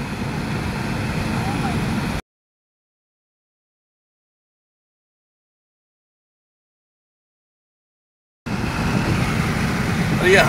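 A car coasting at about 100 km/h with its engine switched off at Wadi Jinn near Madina, giving a steady broadband rumble of road and wind noise at the start and end, with a long stretch of silence in between.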